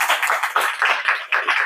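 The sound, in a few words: applause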